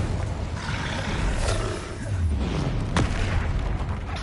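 Confringo blasting-spell explosions boom and roar in Hogwarts Legacy combat, two or three heavy bursts with rumbling tails over a busy game soundscape.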